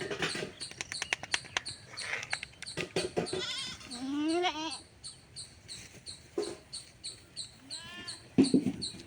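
Goats, including mother goats that have just given birth, bleat repeatedly nearby in wavering cries, with clicking and rustling between calls and a dog or bird faintly in the background.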